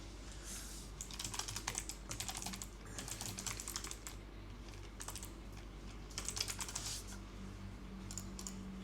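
Steady typing on a computer keyboard during a day-trading session, quick bursts of key clicks in short runs with brief pauses, close and fairly quiet, no talking.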